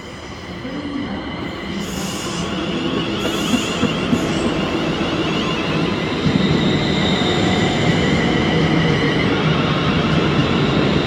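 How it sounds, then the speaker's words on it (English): A ScotRail train at Paisley Gilmour Street station, its loud continuous rumble building and holding steady over the station. Wheel squeal and rolling noise sound close by throughout, with no voices. "This is 1F64, the 1313 Scottish service to Glasgow Central from Ardrossan Harbour."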